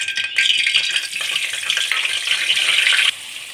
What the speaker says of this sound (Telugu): పన్నీర్ కొంచెం వేపుకుందామండి